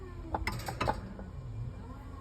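A Kamado Joe Big Joe ceramic grill's hinge gives a few short, faint squeaks and creaks against a steady air-conditioner hum nearby.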